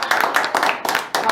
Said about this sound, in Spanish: ¿Cuánto le da un aplauso a Jesucristo?